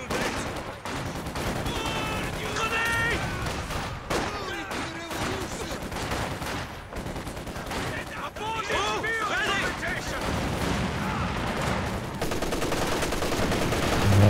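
Machine gun bursts and scattered gunfire from an MG34 in the Company of Heroes 2 strategy game crackle repeatedly through a busy battle mix, with a caster commentating continuously over the shooting.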